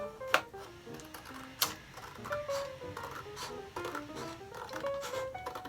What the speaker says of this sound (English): Hear the wobble sound? That's good paper.